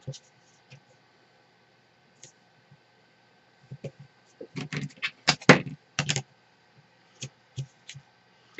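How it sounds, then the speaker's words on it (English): Score tape is being pulled and pressed onto card pieces, giving scattered soft taps and crinkles that cluster into a denser run of close handling noises midway, with quiet gaps around them. "So I'm going to go ahead and just add some score tape."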